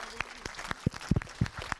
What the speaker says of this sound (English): Please give her once more a huge round of applause for her amazing work.